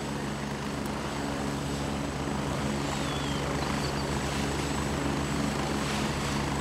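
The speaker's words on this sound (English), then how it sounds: "This is an enemy helicopter coming in." An enemy helicopter approaches in the video game Gray Zone Warfare, its rotor and engine making a steady, loud drone that holds level for the whole stretch with no one talking.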